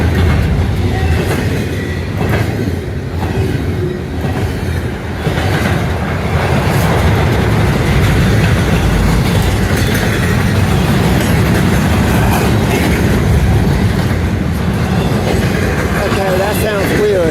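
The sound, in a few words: container freight train passing on single track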